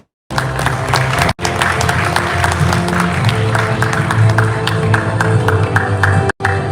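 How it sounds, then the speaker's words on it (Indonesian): Audience at a formal Indonesian forum applauding, with loud, dense clapping that holds steady for several seconds, broken by two brief dropouts, and a low murmur of voices underneath. "Kita berikan tepuk tangan."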